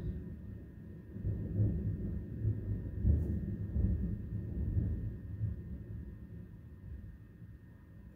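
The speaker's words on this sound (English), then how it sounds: "Very intense thunderstorm." An intense thunderstorm: a steady low rumble rolls on throughout with broad swells, dull and distant, under faint wind and no talking.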